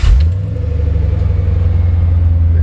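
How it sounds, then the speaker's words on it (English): A fuel-injected V8 in a 1955 Ford F100 pickup fires up with a quick start burst, then settles into a loud, steady, throbbing low idle close by. "Fuel injected V8 starts at the touch of a key."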